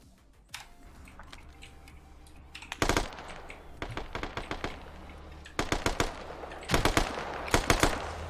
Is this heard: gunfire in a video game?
yes